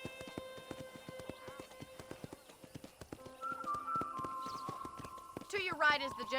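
Horse hooves clip-clop at a steady trot in the Western video game Red Dead Redemption, with rhythmic thuds under game music, a whinny and narration from a speaker.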